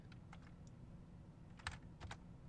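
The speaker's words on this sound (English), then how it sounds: "I need to get a quieter keyboard." Brisk clacking of computer keyboard keys in short bursts, fairly loud and close, with a couple of sharper heavy strokes.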